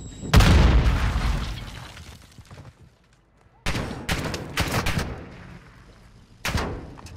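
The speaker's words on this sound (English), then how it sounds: "You are taking effective fire." Gunfire in a shooter video game on the Almazra map: a loud, booming burst that fades, a pause, then several sharp, close volleys in quick succession and one more heavy burst near the end.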